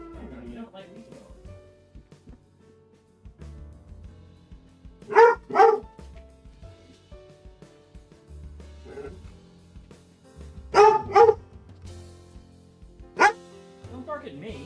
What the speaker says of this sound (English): You don't need to bark at me.